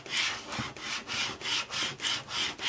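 Vinyl decal being rubbed down firmly onto a tile surface with a tool, a loud, close scraping in steady back-and-forth strokes, about eight regular passes with no talking.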